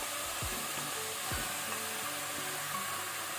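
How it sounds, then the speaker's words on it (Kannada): Mutton pieces and tomato fry in a pan over a medium-to-high flame, a continuous steady sizzle and hiss with a couple of brief low knocks from stirring, no talking. "ನಾವು ಮೀಡಿಯಂ ಟು ಹೈ ಫ್ಲೇಮಲ್ಲಿ 5 ಮಿನಿಟ್ ಇದನ್ನು ನಾವು ಫ್ರೈ ಮಾಡುವ"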